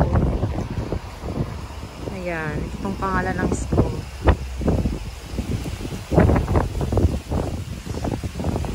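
Gusty wind buffets the microphone while a person talks nearby, the roar rising and falling in bursts.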